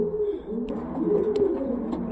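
Soft, repeated pigeon coos close by in a loft, overlapping in a low murmuring rhythm, with a few faint clicks and rustles in between.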